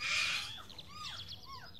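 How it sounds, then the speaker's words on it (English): Several birds chirp and twitter in short, rising and falling calls over a faint low background hum, fairly close and lively without any talking. "Beautiful birds."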